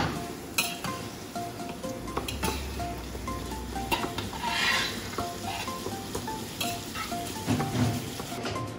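Vegetables for a vegetable biryani sautéing separately in a pan, with a soft continuous sizzle and intermittent scraping and clinks of a spoon stirring against the metal.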